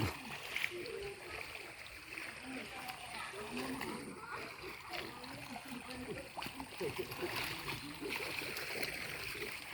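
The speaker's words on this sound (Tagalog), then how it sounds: "nandito po kami sa ano, ilog" River water at Boso-Boso flowing and splashing close by, a continuous soft wash with intermittent splashes, while people talk over it throughout.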